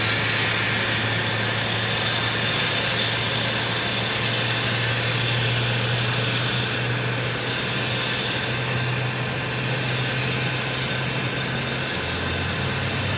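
An airliner near Phoenix Sky Harbor Airport produces a continuous, loud engine roar with a steady low drone that holds evenly for over ten seconds.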